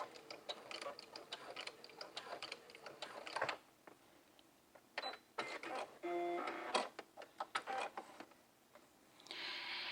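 A sewing machine bastes a strap onto a jumpsuit bodice, running in several bursts of rapid needle stitching with short pauses and small handling noises between runs, close and fairly quiet.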